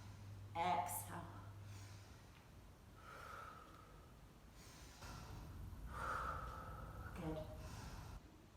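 A person breathing in and out during a Pilates stretch, with a few audible breaths and sharp nasal exhales spread across the passage, fairly close, under an instructor's soft spoken cues.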